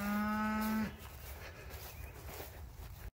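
A single long, loud cow moo on pasture at a farm with loose calves, lasting under a second and then giving way to quiet outdoor ambience.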